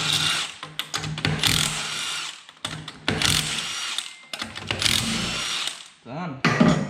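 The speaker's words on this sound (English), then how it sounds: "Lucky we got our trusty speed socket, so we don't have to mess around with wheel nuts while we're taking wheels on and off." Power drill with a speed socket spinning wheel nuts off a Nissan S13 Silvia during corner weight balancing, in repeated loud whirring bursts broken by short pauses and ratcheting clicks.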